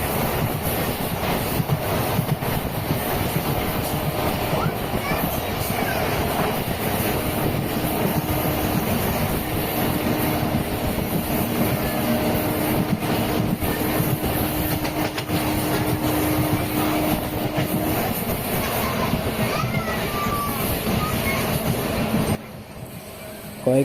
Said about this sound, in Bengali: সাঁইথিয়া থেকে ট্রেন ধরে বেরিয়ে পড়লাম